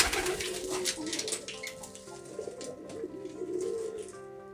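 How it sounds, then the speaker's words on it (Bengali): A pair of Shirazi pigeons at bath time, giving repeated soft throaty coos in overlapping phrases, close and moderately loud, with some splashy noise in the background. "এই কবুতর জোড়ার নাম সিরাজি। এখন তাদের গোসলের সময়"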